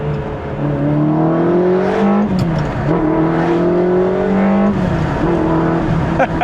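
Ferrari 360 with a manual gearbox revs hard and shifts up through the gears, its engine note climbing, dropping at each change and climbing again, loud and close throughout.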